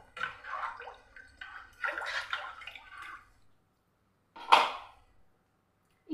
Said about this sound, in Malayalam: ഇനി നമ്മളിതിലേക്ക് ഒരു ലിറ്റർ വെള്ളവും കൂടെ ഒഴിച്ചു കൊടുക്കാം